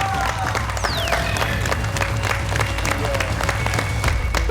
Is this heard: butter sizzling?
no